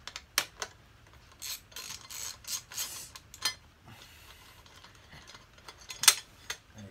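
A socket ratchet from a Halfords set works a bolt loose on a Yamaha MT07 motorcycle, giving a close series of short, sharp clicking bursts in uneven runs with brief pauses between them, and no talking.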